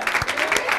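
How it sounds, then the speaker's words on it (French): A short burst of applause at a choral singing event, dense clapping filling the moment with no talking over it. "on va applaudir très fort pour la présidente"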